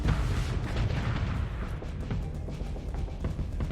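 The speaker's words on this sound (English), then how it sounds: "Now I can see the flak actually working." Flak cannons fire in Starsector with rapid, repeated booming bursts in a thick, continuous barrage, loud and close, with low rumbling explosions layered throughout.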